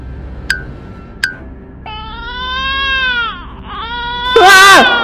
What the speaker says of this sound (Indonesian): Suara tangisan bayi siapa ini?